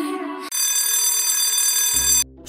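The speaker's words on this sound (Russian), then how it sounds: "Что? Звонок?" A school bell rings in a classroom setting as a loud, sustained electronic tone that starts abruptly, holds steadily for nearly two seconds, then cuts off.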